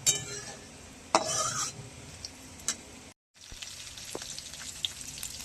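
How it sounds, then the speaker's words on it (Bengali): Taro (kharkol) leaves fry in a pan with a low sizzle, broken by a few metal clinks and scrapes from a utensil and one brief silent gap. "দেখুন খারকোল পাতাটা ভাজবে"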